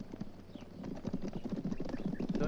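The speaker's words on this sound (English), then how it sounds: "I hear horses." Horses approach in a 1971 Western film, a steady clip-clop of hooves that grows louder and closer, with no talk over it.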